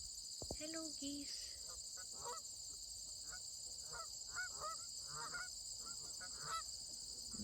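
Many geese honk repeatedly at a distance on Wolfe Island, Ontario, in August, irregular overlapping calls over a steady high insect drone.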